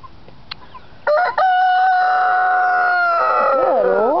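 Several backyard chickens, including a buff hen and what may be a partridge rock, crow loudly and steadily at close range, a long sustained call sliding in pitch near the end, with a few soft clucks before it.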